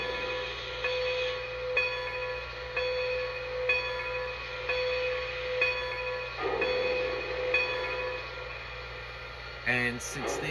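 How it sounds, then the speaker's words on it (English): A Lionel Legacy Blue Comet 10-wheeler model train's mechanical bell rings steadily in a repeating pattern over a constant motor hum and hiss, with a brief burst of louder clatter near the end. "Here's the bell."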